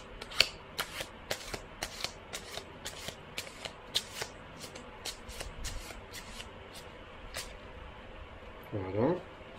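Playing cards handled during a magic trick, with a deck slapped down onto a second pile; a run of sharp, evenly spaced card clicks and riffles up close, a soft rustle near the end, no talking.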